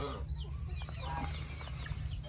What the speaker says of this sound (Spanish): Voy a desarrollar una buena cría de gallos y gallinas criollas